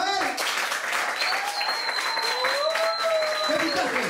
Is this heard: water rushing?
no